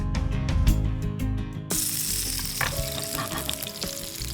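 Crushed garlic cloves sizzle in about two teaspoons of hot oil, a loud steady frying hiss with clinks of a utensil; the sizzle jumps brighter partway through as the garlic hits the pan, with no talk.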